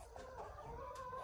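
Backyard hens give a short run of soft, low clucks close by against a steady background hum, with no one talking.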